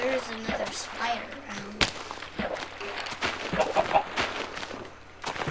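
A Minecraft chicken clucks in short bursts amid game noise, with sharp clicks and thuds scattered throughout and a low steady hum underneath.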